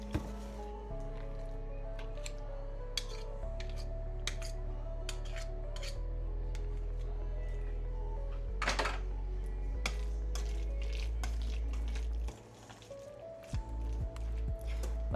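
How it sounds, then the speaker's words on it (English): Chicken salad mixed in a bowl with a utensil, with soft squishy stirring, clicks and scrapes under a steady low background hum. "we're gonna go ahead and get this nice and mixed up"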